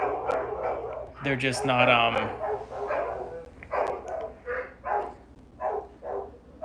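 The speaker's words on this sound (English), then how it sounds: "damn, my dogs are barking." Dogs bark in short yips and woofs, mixed with someone talking nearby, with a cluster of sharp barks early and more scattered ones later.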